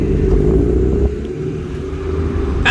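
Racing cars pull away at the start of a wet race at Snetterton circuit, a steady rumbling engine roar heard from nearby with a brief rising whine at the very end.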